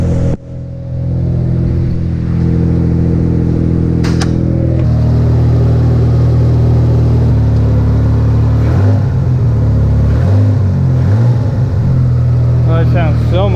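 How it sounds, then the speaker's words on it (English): A Mitsubishi 3000GT VR4 engine idles a little high with a steady, fairly fast rumble up close, its pitch shifting slightly a few times while it keeps running. "Oh, that sounds so much better. I mean, it's still idling a little high."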